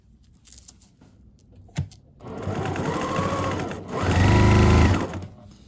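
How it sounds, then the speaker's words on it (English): A sewing machine runs in two sustained bursts, sewing a quarter-inch seam down the edge of a fabric heat-massager cover, starting after a brief click and growing louder and faster in the second run. "we're going to stitch a 1/4 inch seam all the way down and down the bottom edge"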